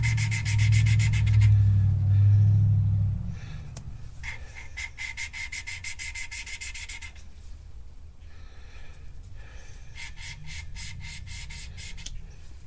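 A Subaru EJ25 valve is lapped against its seat with abrasive compound, giving a rhythmic gritty rubbing and grinding that pulses back and forth, close up. A low hum at the start fades to a quieter scraping.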